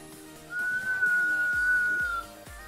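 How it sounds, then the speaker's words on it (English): A person whistles a single steady, sustained note lasting about a second and a half, clear and close, in a quiet room with faint background sounds. "That's my whistle."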